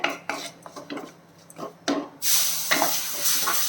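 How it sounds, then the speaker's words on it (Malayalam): Ground tomato paste goes into a pan of fish-style curry on low flame. A few spoon taps and scrapes come first, then a sudden loud, steady sizzle bursts up close and keeps going. "നമ്മൾ രണ്ട് തക്കാളി അരച്ച് വെച്ചിട്ടുണ്ട് ഞാൻ ഇതും കൂടെ ചേർത്ത് കൊടുക്കുന്നേ"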